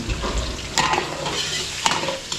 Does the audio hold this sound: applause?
no